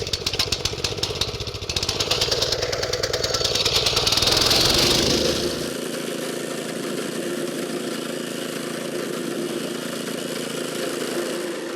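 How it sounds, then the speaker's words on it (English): A rented plate compactor pounds a gravel layer for a plantable paver pathway, loud, rapid, vibrating thumps from close by, rising in intensity, then settling into a steadier, quieter engine run. "You can rent a compressor from a local equipment rental shop, and what this is going to do is press that gravel layer together"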